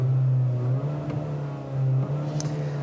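A 2020 Kia Soul GT-Line's 1.6-liter turbocharged four-cylinder engine revs with a steady mid-pitched hum that dips and rises again, heard up close with no voices.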